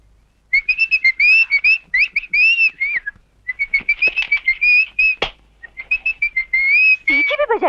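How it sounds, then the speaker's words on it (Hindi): A person whistling a lively tune in repeated short melodic phrases, clear and close, with brief pauses between bursts and a few sharp clicks mixed in. "सीटी भी बजा रहे हो?"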